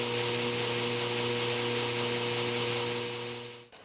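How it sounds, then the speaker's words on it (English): Steady, loud machine whine of a belt grinder with a 400 grit belt shaping knife handle scales, running continuously with a constant hum, then briefly dipping near the end. "we're going to go ahead and take a 400 grit belt and shape them"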